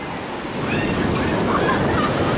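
Ocean surf and wind at Oceanside beach near San Diego on a cold, foggy, windy day: a steady, full wash of breaking waves with gusty wind rumble on the microphone, growing slightly louder, with no talk.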